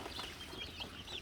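Chickens, a mix of farm broilers and local country hens, clucking softly inside a poultry farm shed, with faint intermittent calls over a low, steady background.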